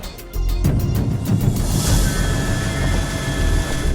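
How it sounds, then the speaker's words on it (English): A steady, loud helicopter engine and rotor roar with broadband wind rush, constant throughout and close by, recorded from inside the cabin over Tahiti and Moorea. "we're about to take a helicopter ride around the islands"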